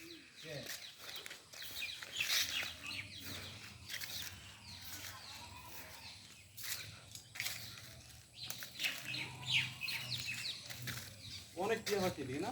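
Outdoors in a natural area, many parrots give scattered shrill chirps and squawks at a distance, with people talking in between.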